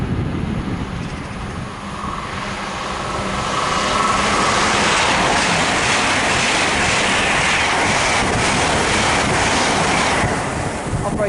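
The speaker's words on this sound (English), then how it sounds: "the next train to pass by, Great Western Railway IET" Great Western Railway IET, a pair of Class 800 units, passing at speed near Hanwell on the Great Western Main Line, a loud broad rushing roar that swells and holds, with wind buffeting the microphone.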